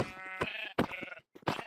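Sheep bleating in Minecraft, several short wavering bleats in quick succession with brief pauses between, close and clear with no talk over them.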